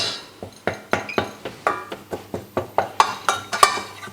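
Flour and butter roux stirred in a pan, a quick steady series of some fifteen close metallic scrapes and clinks of the utensil against the pan, evenly paced and fairly loud, no talk.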